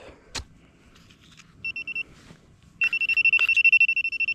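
A metal detector sounds a short pulsing beep, then a longer run of rapid electronic beeps, signalling ID 70, over quiet rustling and a couple of knocks.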